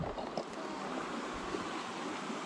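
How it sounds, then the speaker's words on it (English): A river flowing in the open air, a steady broadband rush of moving water at moderate level with a touch of wind over it, no voices. "Made it down to the river now."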